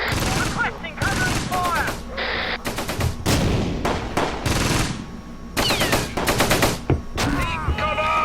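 Battle gunfire in the WWII strategy game Close Combat Gateway to Caen: repeated rapid bursts and sharp volleys of rifle and machine-gun fire, close and loud, with someone talking beneath part of it.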